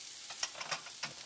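Bermuda red onions sautéing in a pan, a soft steady sizzle with a few brief stirring scrapes, fairly quiet and close, no talking.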